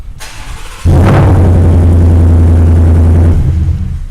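A 2019 Ford F-150 with an added dual exhaust and twin rear pipes fires up after a brief click, then settles into a steady, loud, deep idle rumble that eases slightly at the end.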